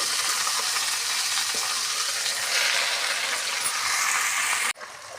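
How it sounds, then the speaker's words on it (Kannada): Washed greens tipped into hot tempering oil in a village-style kitchen, a loud steady sizzle and crackle of frying that runs for several seconds before abruptly dropping away. "ಆ ಸೊಪ್ಪನ್ನು ಅದು ಒಗ್ಗರಣೆಗೆ ಹಾಕ್ತಾ ಇದ್ದೇನೆ"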